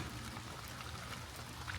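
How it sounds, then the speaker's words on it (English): A steady, soft patter of light rain falls outdoors on a cold morning, heard from under a sheltered spot as a constant, faint, even wash of drops with no voices. "Yep, it's just a nice steady rain, nothing too serious."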